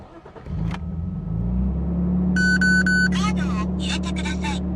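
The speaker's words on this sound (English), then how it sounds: "I'm going to turn it on just so that you guys can see that it does run" A Nissan Skyline R34 engine cranks and catches, then settles into a steady idle close by, while the car's electronic voice announcement and chimes sound over the running engine.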